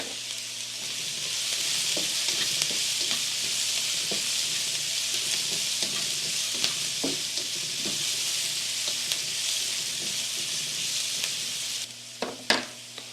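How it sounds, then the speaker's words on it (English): Onions sauté in a wok for a vegan mushroom stroganoff, giving a steady, close sizzle throughout with scattered small crackles and a few sharper utensil knocks near the end. "So the onions are sauteing nicely and getting nice and clear"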